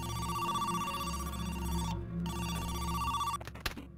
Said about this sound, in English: But the phone is ringing.